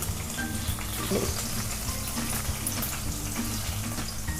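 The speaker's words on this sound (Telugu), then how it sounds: "ఆయిల్ వేడైన తర్వాత దీంట్లోకి మనము ఫస్ట్గా పచ్చిమిర్చి వేసుకోవాలి." Green chillies drop into hot oil and fry, a close, continuous crackling sizzle with a low hum beneath and a brief louder burst near the start, no speech heard.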